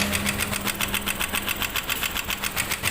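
A roughly repaired motorcycle engine, recently run without oil and overheated, idles noisily with a fast, even, clattering knock close by, with no talking.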